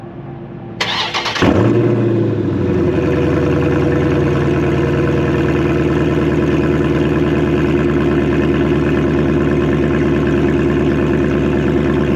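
A Dodge Challenger with its stock cat-back exhaust removed cranks briefly and fires up loud and close, then settles into a deep, steady, throbbing idle that carries on unbroken with no talking.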